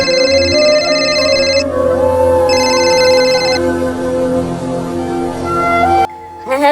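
A phone rings with an electronic ringtone in repeating bursts of bright tones over a low hum, part of a Bangla drama scene, before cutting off near the end.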